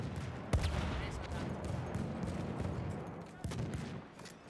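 Dense, continuous gunfire rattles in Battlefield 1, with rapid overlapping shots and a couple of sharper louder bangs cutting through the busy battlefield din.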